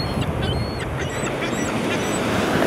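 Ducks quacking outdoors, a dense steady chorus of overlapping calls from a flock, fairly loud and continuous with no talk over it.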